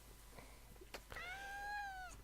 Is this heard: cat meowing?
yes